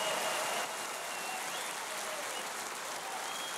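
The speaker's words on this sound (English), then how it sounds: "Give the Lord a hand clap of praise in this house this morning" Sustained applause from a church congregation giving a hand clap of praise during a Sunday morning service, a dense steady roar of many hands filling the room throughout.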